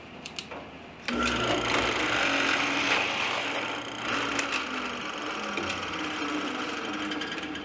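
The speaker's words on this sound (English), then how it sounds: "Now I'll take that over to the miter saw and cut that piece off." A miter saw cuts through a piece of wood, a harsh buzzing whine that starts suddenly after a few faint knocks and grinds on loudly and steadily to the end.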